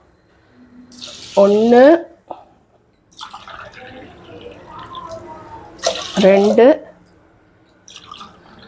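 Water is poured from a glass into a pot to cook rice for ghee ven pongal, two separate splashing pours a few seconds apart, close by, with a voice counting between them.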